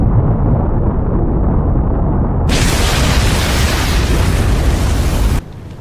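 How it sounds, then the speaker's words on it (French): Four orbs detonate at once in an anime battle: a rumbling low roar suddenly bursts into a loud, broad explosive blast that sustains for about three seconds, then cuts off abruptly. "l'explosion simultanée de 4 orbes"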